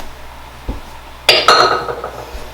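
Almonds tipped into biscotti dough in a mixing bowl give a low thump followed by a loud rattling clatter of nuts hitting the bowl, then a short settling tail.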